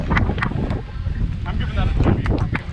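Steady wind buffets an outdoor microphone on a windy night at a Twin Cities wiffleball game, a loud, continuous low rumble with gusty surges, while indistinct voices sit faintly beneath it.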